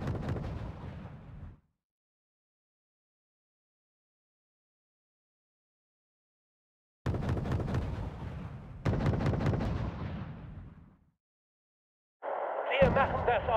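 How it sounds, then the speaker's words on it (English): Autocannon fire from a Moderna in Wargame Red Dragon (East Germany DLC): loud, rapid bursts separated by long silences, the final burst cut short by a brief harsh tone. "I love the goddamn autocannon on this Moderna."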